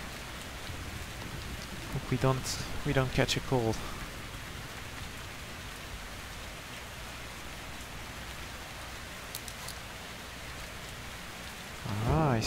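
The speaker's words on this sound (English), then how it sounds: "It's starting to rain." Steady rain falls throughout in the video game Metro Exodus, with a few brief bursts of speech early on and near the end.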